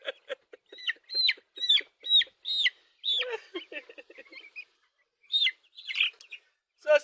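Broiler chicks in a small poultry farm pen give a close series of high, sharp peeps and chirps in quick bursts, with brief quiet gaps between them.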